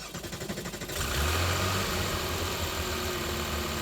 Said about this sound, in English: And immediately you notice the thickness, the solidness of the noise the engine makes.